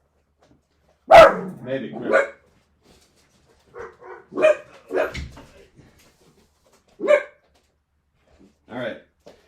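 Two dachshunds bark in short, sharp bursts spaced a few seconds apart, loud and close in an otherwise quiet room, with a few spoken words between them.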